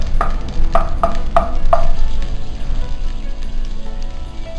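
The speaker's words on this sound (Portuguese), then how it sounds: "Deixar esquentar aqui e vou colocar com esse caldo de carne junto." Beef broth heating in a hot pan for beef stroganoff, with a steady sizzling bubble and a few sharp utensil clinks against the pan near the start.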